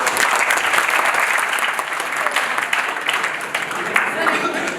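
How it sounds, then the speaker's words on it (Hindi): Loud, dense clapping from a seminar crowd at an institute of technology, many hands beating rapidly with a few voices mixed in, staying strong throughout. "एक बार पहले जोरदार तालियां प्लीज"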